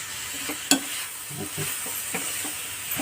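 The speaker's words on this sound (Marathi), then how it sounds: "आता घट्ट होईपर्यंत धवडीत राहायचं" A coconut and cardamom filling is stirred in a pan with a spoon, giving soft scraping strokes and a light sizzle, plus one sharp clink of utensil against the pan early on.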